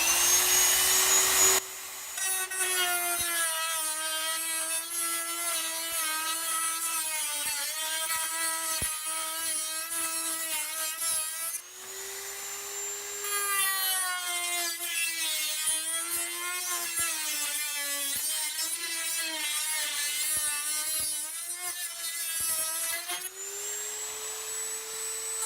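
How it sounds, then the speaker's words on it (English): A high-speed power drill whines steadily through Plaskolite plastic louver, its pitch dipping and rising under load, with brief pauses and restarts; loud and close, no talking. "You're cutting through plastic, so you typically want to go with as high of a drill speed"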